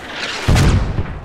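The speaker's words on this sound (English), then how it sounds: "Bad mortars." A mortar explosion in the video game Squad lands as a single heavy, rumbling boom that breaks in suddenly and rolls off within a second, loud against a dull background.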